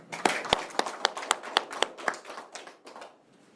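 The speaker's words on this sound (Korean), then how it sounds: "준비를 뭐 열심히 했다니까 박수 한번 쳐드릴까?" Sparse, scattered claps from a small audience at a talk on generational conflict, a dozen or so distinct sharp hand claps fading out over a few seconds in a quiet room.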